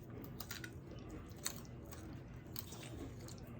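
Homemade baked pumpkin seeds, browned and warm, are crunched and chewed up close in a few quiet, crisp bites with soft chewing between them.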